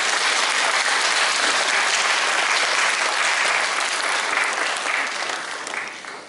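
Dense, sustained applause from a forum audience at an award ceremony in Tikhvin, a loud even wash of many hands clapping that holds steady and then begins to fade near the end.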